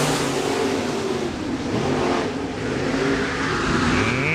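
Dirt track race cars from a USMTS heat race at Park Jefferson Speedway roar around the oval, a steady loud blend of revving engines and passing cars throughout.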